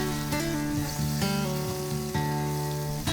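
Star anise and ground Sichuan pepper stir-frying in hot oil in a wok alongside ginger slices, giving a close, steady sizzle throughout with a tonal background underneath.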